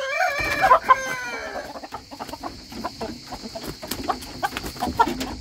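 A rooster in a coop lets out a clear, close crow at the start, followed by scattered clucks and shuffling from the flock.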